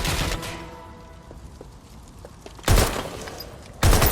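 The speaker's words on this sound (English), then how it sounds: "Shots fired." Gunfire in the video game Watch Dogs Legion: a burst of shots at the start, a quieter lull, then two loud, sharp volleys of rapid fire near the end.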